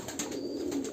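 Soft, low pigeon cooing close by, a steady murmuring coo over a faint background hiss, with no voices.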